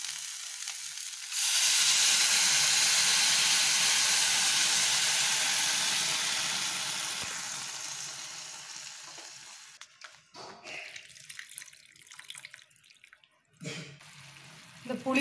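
A loud hiss and sizzle erupts as green chillies hit hot oil in a pan, then gradually fades into softer crackling and bubbling, followed by scattered clinks.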